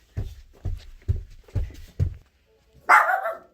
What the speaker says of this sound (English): up here here's Flora and her little puppy